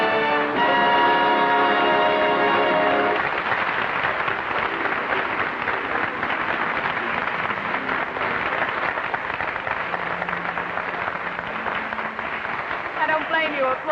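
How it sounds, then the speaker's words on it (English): A studio audience claps at a 1950 television dance show. The applause is loud and sustained across the stretch, and a brief musical phrase is heard at the start. "I don't blame you applauding."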